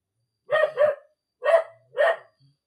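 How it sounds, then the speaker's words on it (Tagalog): A dog barks outside, four sharp barks in a close pair followed by two single barks, fairly loud against otherwise silent surroundings. "hindi ba masyadong malakas yung ingay ng aso?"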